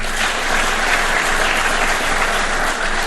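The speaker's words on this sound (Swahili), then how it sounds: "Tuwapigie makofi jameni" A large audience applauds steadily and loudly throughout, a dense continuous clapping crowd at a Kenyan government launch of the e-citizen digital services platform.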